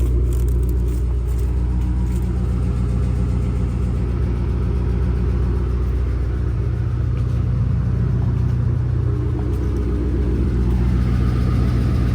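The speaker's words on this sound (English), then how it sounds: "that was the quietest cold start I've ever had" A Ford Mustang engine idles steadily after a cold start, a loud, continuous low rumble with a slight tick attributed to a possible exhaust leak, with no voices.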